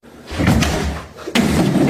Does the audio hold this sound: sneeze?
no